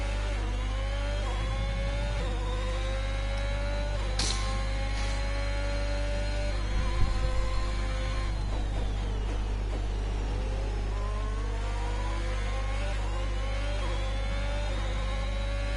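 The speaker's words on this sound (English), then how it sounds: "I love the sound of these engines." Formula 1 cars in the racing game F1 2021 rev steadily with smooth rising and falling engine whines over a constant hum, a sharper burst near the middle, and no talking.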